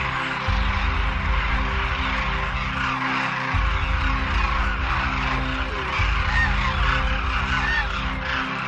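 A flock of demoiselle cranes calling at their winter grounds in a desert village in Rajasthan, with loud, dense, continuous honking cries from many birds blending together over the whole stretch.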